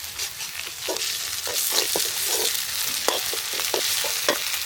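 Ginger-garlic and cumin paste fries in a pan for a pangash fish dish, a constant close sizzle broken by repeated scraping strokes of a spatula, with no voices.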